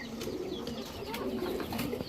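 Pigeons at a seller's loft, including large female Maxi Dobas birds, give soft, repeated throaty coos close by, overlapping in a low, murmuring rhythm.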